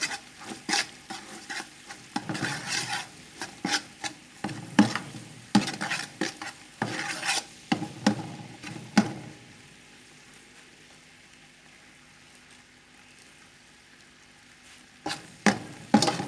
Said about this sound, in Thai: ทำแค่ให้น้ำตาลเขาออกสี ออกไปน้ำตาลแดงนิดนึง ไม่ถึงกับไหม้นะ